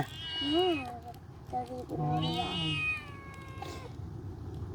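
A cat meows several times at close range indoors, with rising and falling cries, while a person talks alongside.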